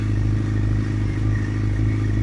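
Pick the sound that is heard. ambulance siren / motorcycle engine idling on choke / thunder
motorcycle engine idling on choke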